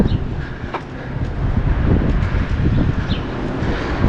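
Wind buffets the microphone in a continuous low rumble on a hot day along a bay shore, gusting unevenly with no one talking.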